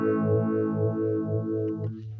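A sustained electric guitar tone through a Pigtronix EP2 Envelope Phaser pedal, depth set to the middle, with a sweeping phaser effect, the swirling notches rising and falling steadily, loud and close, no voices.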